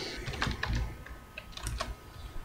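Rapid computer keyboard typing as a slash command is entered in a Tekkit Minecraft server session, with a cluster of close, quick clicks, then a brief pause and another burst, with no talking.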